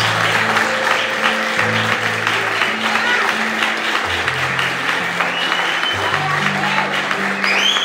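Sustained applause from a church congregation during a service fills the whole stretch, steady and energetic, with a musical keyboard or organ playing underneath.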